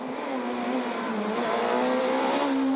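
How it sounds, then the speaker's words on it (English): A Peugeot 207 S2000 rally car engine howls at high revs with rising and falling pitch as it drives through a stage of the Ypres Rally, fairly close and continuous. "Here's Brian Bouffier, Frenchman in his S2000 Peugeot 207."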